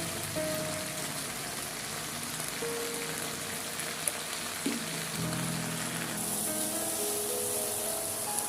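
Jujube (kul) pickle with turmeric and salt bubbling as it cooks, a continuous dense crackle and hiss like rain on a surface, steady and close throughout with no talk.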